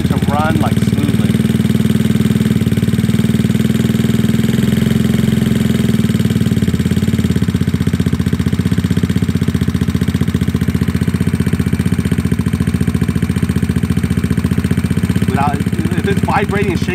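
A GY6 scooter engine idles continuously, close and loud, with a fast, even putter that holds steady the whole time.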